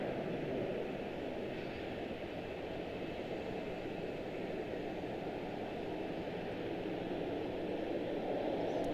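A PSA Airlines CRJ9 regional jet departing Charlotte-Douglas airport gives a continuous distant jet roar, steady and broadband for the whole stretch, with no voices over it.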